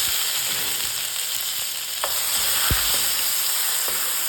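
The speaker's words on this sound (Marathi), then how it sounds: "काजू लालसर झाल्यानंतर त्याच्यामध्ये आपण हे टोमॅटोचे तुकडे घालणार आहेत" Tomato pieces frying in hot oil with reddened cashews for paneer makhani, a steady close sizzle throughout with a few brief clinks and stirring knocks, no talking.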